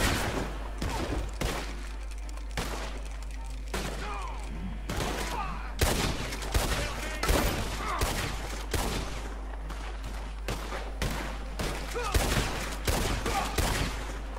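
Rapid gunfire from a firefight in the online Western video game Red Dead Online, shots crackling in dense bursts and volleys throughout, loud and close, with a continuous low hum underneath and some talk mixed in.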